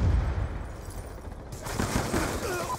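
Continuous rapid gunfire from the Call of Duty: Black Ops 2 video game, dense bursts of automatic shots that grow brighter and louder partway through, with no pauses between them.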